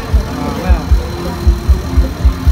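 A new Isuzu 6HK diesel engine with an upgraded turbo, fitted to a harvester, runs with a rhythmic low chugging pulse at a steady idle, close and loud, while someone talks.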